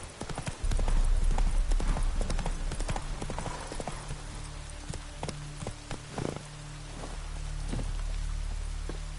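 Horse hooves clip-clop in a quick galloping rhythm from Roach, the horse in the video game The Witcher 3: Wild Hunt. Rain patters under the hoofbeats, and a low ambient drone rises toward the end.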